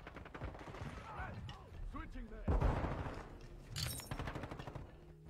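Shotgun blasts in a video game ring out in sharp bursts among other game noise, with a voice chatting over the action.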